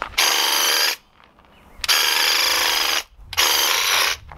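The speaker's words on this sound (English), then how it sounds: "For some reason, it's squirting a shot of paint when I pull the trigger and when I let go of the trigger." A cordless airless paint sprayer spraying paint in three loud, hissing bursts, each lasting about a second and separated by short pauses, close up with no talk.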